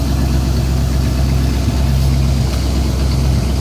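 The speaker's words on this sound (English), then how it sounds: "MagnaFlow exhaust, a straight pipe, so it sounds real nice and" A 1976 Dodge truck with a MagnaFlow straight-pipe exhaust idles steadily, a loud, close, low rumble with a constant throb and no talk.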